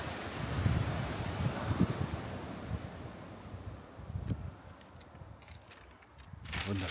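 Sea waves wash onto a sandy beach beside a coastal bunker, a soft rolling surf buffeted by gusty wind on the microphone, fairly faint and steady.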